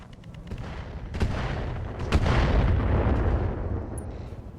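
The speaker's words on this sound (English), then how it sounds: "Firing. All weapons." Mech weapons fire together in the video game RogueTech, booming heavy blasts and sharp cracks that swell into a loud rumbling barrage with scattered pops.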